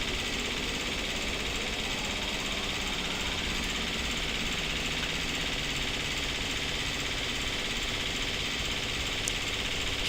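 In the X-Trident Panavia Tornado flight sim, the jet's second engine spools up as a steady, even turbine whine and hiss that holds at moderate level.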